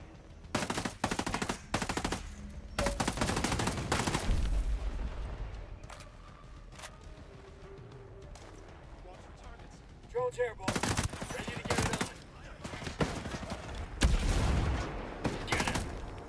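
Machine gun turret firing in the Ghost Recon Breakpoint video game, heard as repeated loud bursts of automatic gunfire in clusters with short gaps, mixed with game ambience.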